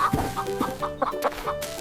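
A farm chicken clucks in quick, close bursts, several short choppy calls in a row over a faint musical background.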